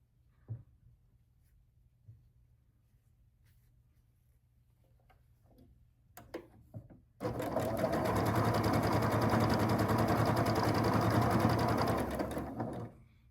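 After a few quiet clicks and fabric handling, a sewing machine runs at a steady, fast, loud pace for several seconds while stitching a quilt block, then stops.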